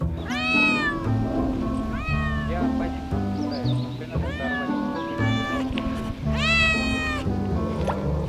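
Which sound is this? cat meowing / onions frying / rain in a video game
cat meowing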